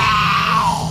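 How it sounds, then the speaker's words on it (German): A woman screams inside a Halloween haunted maze in NRW, Germany, one sustained loud shriek wavering and slowly falling in pitch over a low rumbling background of crowd and attraction noise. "Die kann schreien, wa?"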